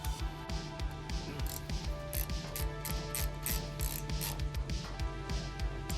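Ratcheting hand tool working a stud loose on a 1977 Tarva jet boat under restoration, a steady run of quick metallic clicks and rattles repeating close up throughout.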